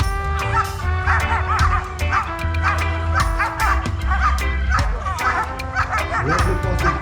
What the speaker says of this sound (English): That is a Dutch Shepherd.